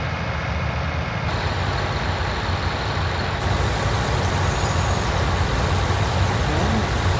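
A farm vehicle hauling beans across a field in Farming Simulator 19: steady, loud, continuous engine drone and rumble without breaks.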